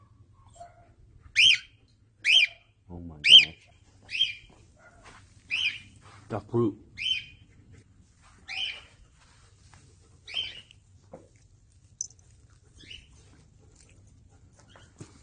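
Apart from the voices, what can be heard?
pet bird screaming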